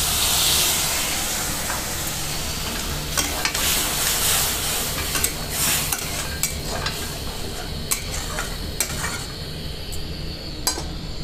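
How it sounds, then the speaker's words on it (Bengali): Water poured into a hot pan of bottle gourd cooking with egg and chilli powder sets off a loud, steady sizzle and hiss that slowly eases, broken by sharp scrapes and clinks of stirring. "জল দেবো এবারে।"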